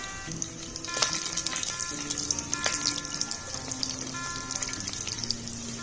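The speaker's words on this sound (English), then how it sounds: "start adding onions and then saute them" White onions sautéing in a pan for vermicelli pulav, a fine crackling sizzle with frequent small spatula taps and scrapes, close and fairly quiet over a faint steady hum.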